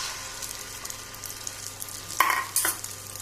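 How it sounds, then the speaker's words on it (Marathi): Eggs frying in oil on a hot tawa give a steady fine sizzle, broken near the end by a few sharp metallic scrapes and clinks of a utensil against the pan. "आता हांवें तवो तापत दवरला, तेल इल्लेशें घातला। आता ताचेर हे तांती घालता।"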